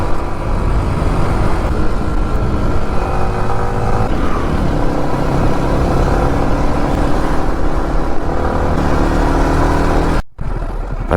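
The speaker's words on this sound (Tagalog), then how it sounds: "Pati ba naman dito traffic?" Road traffic engines idle and rev close by, a loud continuous mix of motor drone and rumble that cuts off abruptly near the end.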